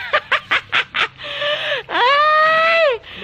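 A chicken gives five quick, evenly spaced clucks, then lets out one long, drawn-out squawk, loud and close.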